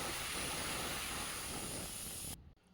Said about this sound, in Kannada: ನೋಡಿ, ಇವಾಗ ಹಂಗೆ ವಿಸಿಲ್ ಬಂದಿದೆ.